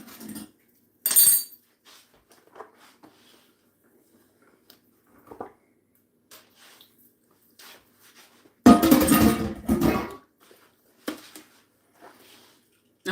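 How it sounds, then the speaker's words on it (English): A metal pan clanks into a kitchen sink among other dishes, with a sharp clatter early on and a louder, longer burst of clanging and scraping later, separated by quiet scattered taps and small knocks. "I gotta get this pan in the sink."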